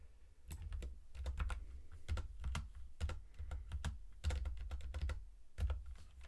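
Steady typing on a computer keyboard, quick irregular key clicks in bursts, close and fairly quiet, with no voices.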